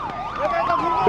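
A fire engine siren wails loudly and close during a joint fire-control and rescue drill in Taumadhi, Bhaktapur, its pitch sweeping up and down in a rapid rising and falling pattern.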